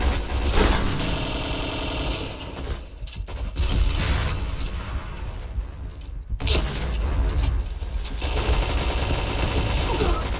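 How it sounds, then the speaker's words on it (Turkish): Bombs and gunfire in a video game, where AUG A3 rifle fire and blasts come in dense, loud bursts that break off briefly mid-clip and then resume. "Nereden geliyor bu bombalar?"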